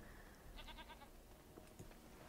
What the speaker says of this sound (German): Das ist irgendwie eine Ziege oder so.